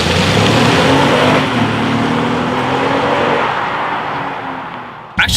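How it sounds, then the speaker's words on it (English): A 2019 Honda Passport SUV accelerates hard onto a highway, its engine roaring loud and steady from inside the cabin, holding a rising drone for several seconds before easing off, with no one speaking. "let's test out the acceleration on this one"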